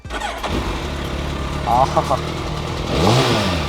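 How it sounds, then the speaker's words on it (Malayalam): A BMW S1000RR motorcycle engine runs smoothly nearby with a brief rev, heard beneath people talking throughout. "ഓ എന്തൊരു സോഫ്റ്റ് ആയിട്ടാ റിഫൈൻഡ് എഞ്ചിനാണ്"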